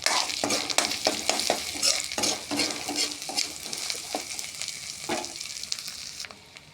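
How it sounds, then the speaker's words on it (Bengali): Cumin and chili powder are mixed into sizzling oil with a spoon, giving a quiet frying hiss broken by a rapid run of close, scraping stirs and taps against the pan, without talk. "এক চামচ জিরার গুঁড়ো এক চামচ লঙ্কার গুঁড়ো দিয়ে মিক্স করে নেব"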